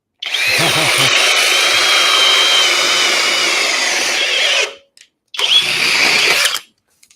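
A Makita 40V cordless drill runs flat out in turbo mode, a loud high-pitched motor whine for about four seconds, cutting off, then a second shorter burst close by.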